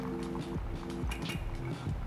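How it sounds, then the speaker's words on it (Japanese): Hot water poured from a kettle into a Hario W60 coffee dripper during a pour-over brew, a close trickling stream with faint clinks of ceramic and glass. "3投目は0分55秒 からまた 100g のお湯を15秒間かけて注いでいきます"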